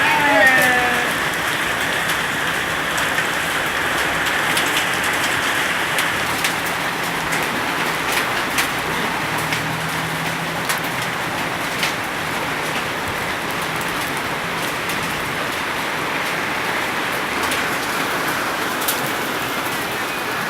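Hail falls in Lebakbarang, Central Java, as a dense, continuous patter and clatter on surfaces around the listener, loud and unbroken throughout with scattered sharper ticks.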